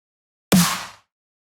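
Dry snare drum sample from Splice, played once with no processing: a single sharp, bright crack with a short noisy tail that fades out in about half a second.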